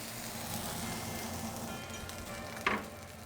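A steak sears in a hot vintage cast iron pan, giving off a steady, close, even sizzle that holds throughout, with one brief sharper crackle near the end and no talking.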